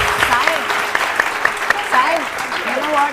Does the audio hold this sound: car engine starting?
no